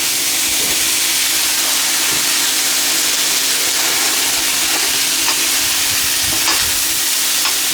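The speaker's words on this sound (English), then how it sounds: "Give it a quick stir fry." Lamb stir fries in a hot wok for a Cantonese curry, giving a loud, steady sizzle and hiss with occasional faint scrapes of stirring, and no voices.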